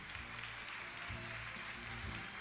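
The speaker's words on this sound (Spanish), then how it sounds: "un aplauso muy grande entonces para este trofeo, este premio para León Ferrari" Audience applause at the Konex 2012 visual arts awards ceremony for a trophy presentation, a steady faint wash of many hands clapping indoors, continuous and even throughout.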